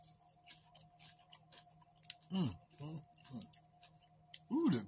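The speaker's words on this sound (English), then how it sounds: "Ooh, the crunch." A crunchy tortilla spread with peanut butter and jam is chewed close up, giving crisp bursts of crunching between quieter moments, while voices talk nearby.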